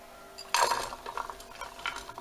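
Chopped bacon, chilli, mushroom and onion tipped into a lightly oiled frying pan, giving a sudden clatter followed by scattered scraping and clinking of a utensil against the pan.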